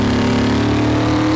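Steady engine drone of a V8 car in Car Mechanic Simulator 2018, a dense continuous rumble with strong low harmonics, loud and close, holding an even tone through a short stretch with no speech.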